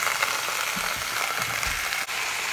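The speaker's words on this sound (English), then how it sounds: "you can hear all the sizzle going in there" Pot roast pieces sizzling and frying steadily in an Express CrockPot, a continuous close hiss with faint soft stirring bumps and no talking.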